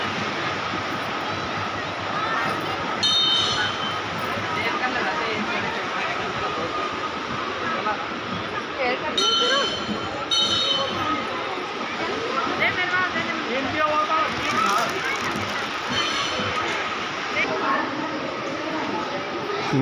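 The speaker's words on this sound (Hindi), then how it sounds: "यह नदी बह रही है, जो लोकल पहाड़ी नदी है, जिसकी कलकल करती आवाज़ आपको कानों तक सुनाई दे रही होगी।" Baner, a local mountain river in Himachal, flows past near a temple on its bank; a steady, broad rushing and babbling of water runs throughout, with a voice talking over it at times.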